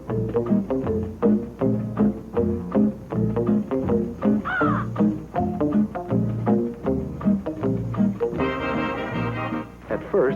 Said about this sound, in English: That's when a much improved Inky the Crow came out of it.